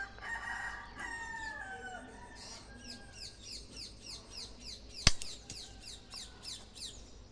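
A rooster crows in a garden in the morning while many small birds chirp in quick repeated bursts throughout, with one sharp click near the end.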